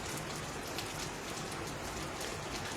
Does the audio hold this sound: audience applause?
no